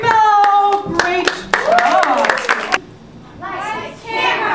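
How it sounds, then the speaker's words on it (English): Children clap together in bursts at close range, sharp hand claps mixed with excited kid voices and chatter, the applause fading as talking continues. "A round of applause for their leadership."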